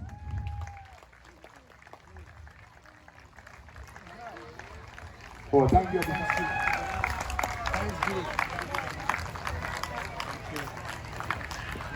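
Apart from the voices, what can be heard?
audience clapping at celebration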